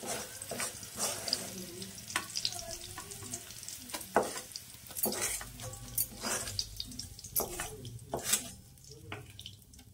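Onion frying in a pan for a Malvani chicken curry, a steady close sizzle with repeated scraping stir strokes and occasional clinks throughout, no talking.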